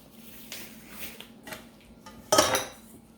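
Egg-yolk filling being mixed in a bowl for macapuno boat tarts, a few light utensil taps and scrapes followed by one louder clattering knock against the bowl, close by.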